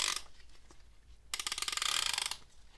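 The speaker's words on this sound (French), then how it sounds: "Ensuite, on serre." Faint metallic ratcheting while the cylinder and piston assembly of a Ducati 900 engine is tightened down, a brief click, a pause, then a denser burst of ratchet clicks lasting about a second.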